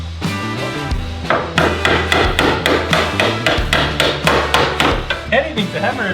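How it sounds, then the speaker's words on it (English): Rapid, loud metallic banging as an improvised hammer strikes car parts on a Torana, a dense run of sharp repeated impacts over a low background engine-like rumble. "Anything's a hammer if you're brave enough."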